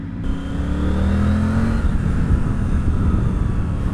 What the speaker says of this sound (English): this 900cc engine got loads of low-down grunt